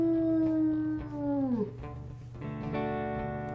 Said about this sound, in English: Alright, howl with me, buddy.